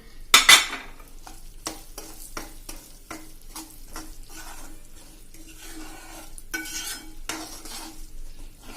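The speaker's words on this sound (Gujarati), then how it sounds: "કિસમિસ ફૂલી જાય ત્યાં સુધી આપણે થોડુંક એને હલાવશું." Raisins, cashews and almonds sizzle in hot fat in a pan while a spoon stirs them, giving soft frying crackle with repeated sharp scrapes and clinks of metal against the pan.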